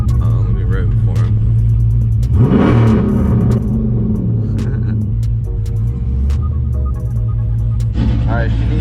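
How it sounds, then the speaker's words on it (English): A Dodge SRT8 on drag radials revs loudly up close, a deep rumbling idle that surges in one sharp rev and then settles back into a throbbing lope, with people talking over it. "Let me rev it for him."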